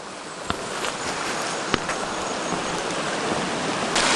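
River flowing at a rocky river crossing: a continuous broadband rushing wash of water, fairly loud and close, with a few sharp knocks and splashes, no talking.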